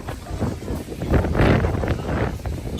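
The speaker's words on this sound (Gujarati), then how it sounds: "પવન એટલો જોરદાર ચાલી રહ્યો છે ગાઈસ" Strong coastal wind at Durdle Door in Dorset buffets the microphone in heavy gusts, a roaring rush that swells loudest midway.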